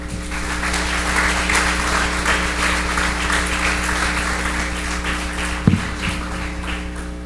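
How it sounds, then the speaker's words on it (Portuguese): A church congregation claps loudly during a sermon, a steady, full wash of applause over a constant low hum, with one brief thump partway through. "Aplauda forte, Senhor."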